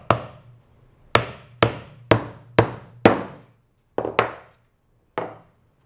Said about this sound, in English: Nailing up near the top of the upright.